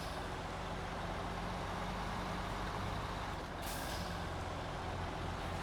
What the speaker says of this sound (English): Although this truck is a little bit louder too